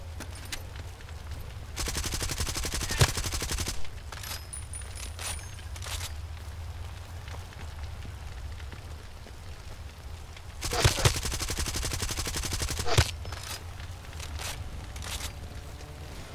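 Two long bursts of automatic gunfire in Far Cry 2 multiplayer, loud and close, with scattered single shots and clattering impacts in between over a steady low background rumble.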